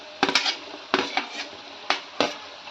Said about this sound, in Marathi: त्यात आता मी हिरवी मिरची घालते